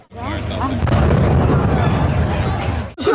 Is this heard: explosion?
yes